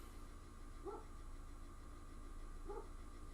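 A dog barking in the background, two short faint barks spaced about two seconds apart over a low steady hum.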